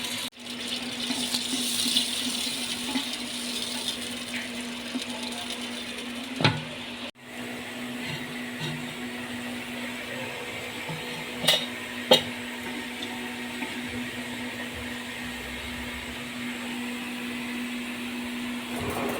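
A steady, broad sizzle of 250 grams of chopped onions frying in about one and a half cups of oil in a clay handi pot, with a couple of sharp clinks from a utensil against the pot.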